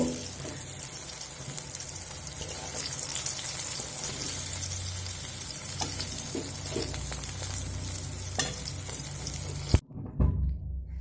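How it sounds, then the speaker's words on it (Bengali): Eggplant pieces fry in hot oil with a steady, continuous sizzle and faint stirring scrapes, close and moderately loud, with no voices; the frying cuts off abruptly near the end, leaving a brief low clatter. "বেগুনগুলো আমি লাল লাল করে ভেজে নিয়েছি"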